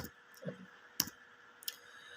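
A few sparse, quiet clicks and taps, like isolated keystrokes on a keyboard, with gaps of near silence between them.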